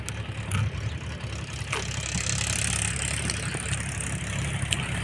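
A tractor engine idles steadily nearby, a low continuous rumble with faint knocking and no voices.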